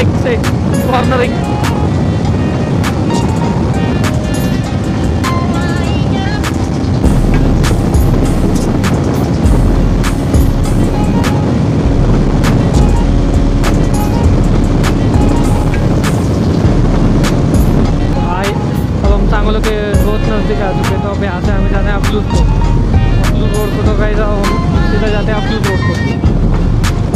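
An NS200 motorcycle runs at speed while cornering, its engine droning steadily under heavy wind buffeting on the microphone, loud and continuous, with a rider's voice over the engine.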